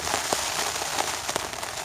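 Rain falling on a campsite near Astoria, Oregon, a steady dense patter with scattered sharper drops hitting a nearby surface, fairly loud and continuous with no talking.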